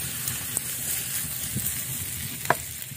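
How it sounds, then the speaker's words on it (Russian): Pork fat and onion frying in a pan, a steady close sizzle with faint crackles and a few soft stirring knocks, no voices. "Обжарили слегка сало и добавили лук."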